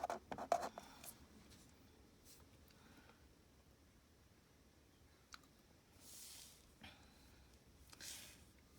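Pencil writing a word on paper, a faint close scratching with a few soft strokes and light rubbing against a quiet room background, with no talking.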